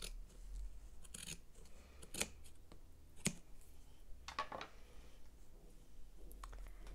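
Scissors cut through yarn to make fringe for a crocheted scarf, giving several crisp, close snips spaced irregularly over a quiet background.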